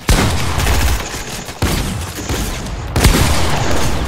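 Loud video-game gunfire fills the clip in sustained bursts, with sharp restarts around every second and a half and no voices over it.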